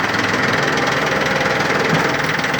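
A Yanmar F13D 13 hp Japanese tractor engine runs at a steady idle, its even mid-low knocking drone loud and close throughout with no talk over it.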